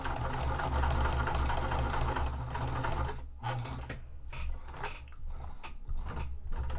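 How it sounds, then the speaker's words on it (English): A sewing machine stitching a wallet, a steady close mechanical whirr that runs continuously and then breaks into choppier bursts as the stitching slows, with no talk. "I'm going to continue my stitches down and then sew across."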